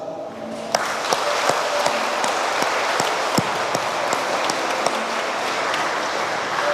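Wedding guests applaud the bride and groom at the close of a church wedding in San Agustín Oapan, a steady crowd clapping with a few sharper claps standing out.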